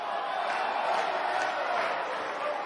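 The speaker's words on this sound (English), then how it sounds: "this Nashville crowd is in awe over witnessing such an incredible performance" A wrestling match crowd roars in a Nashville arena in the WWE 2K19 video game, a dense, steady wash of noise that holds at the same level the whole time.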